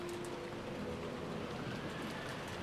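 Steady, even rain hiss fills the scene as a sound effect in the Umineko When They Cry visual novel. The wash is constant and moderately soft, with no voices over it.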